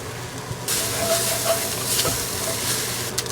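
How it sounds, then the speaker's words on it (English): A pot of chicken noodle soup ingredients is stirred over the heat, giving a steady sizzling hiss with faint scraping and clinks throughout. "and we stir it up"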